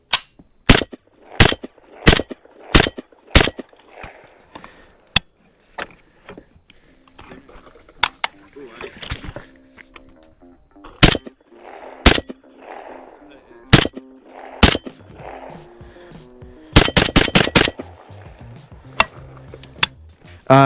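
Sharp metallic clicks from a Yugo AK rifle's trigger and reset ring out one at a time, close and loud, spaced irregularly, with a quick cluster near the end and someone talking between them.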